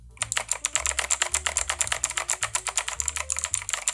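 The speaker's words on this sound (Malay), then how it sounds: "bunyi tactile, bunyi yang memang kliki-kliki, korang boleh ambil blue switch lah" Fast, steady typing on a Machenike K500 mechanical keyboard with clicky blue switches, each keystroke a sharp, close click in a rapid even rhythm with no one speaking.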